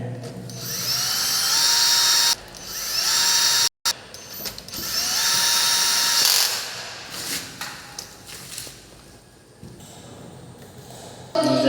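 A power drill driving screws into an MDB electrical box, several whining bursts that rise in pitch as each screw tightens, with a brief dropout and quieter handling between runs.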